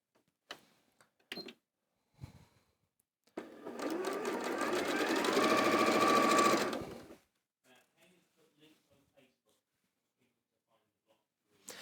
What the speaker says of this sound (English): So I'm going to sew these.